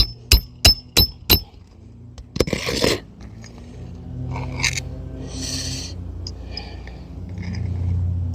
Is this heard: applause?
no